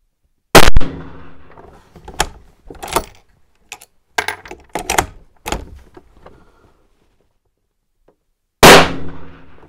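Rifle shots fired at a target during a scope test with a CVLIFE LPVO: a loud, sharp report at the start and another near the end, separated by scattered clatter and handling noises.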